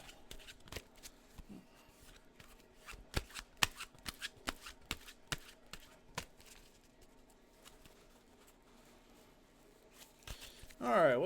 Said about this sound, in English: Let me give this a pretty good shuffle.